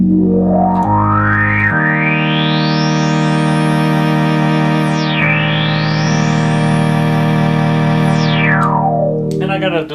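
A restored Moog Opus 3 synthesizer tone with a resonant filter sweeping up and down in long glides, thick and distorted, played loud and continuous with no talk.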